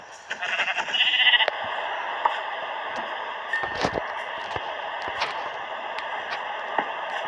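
Minecraft sheep bleats, a wavering bleat near the start followed by steady game ambience with scattered clicks and taps, fairly close and moderate in level.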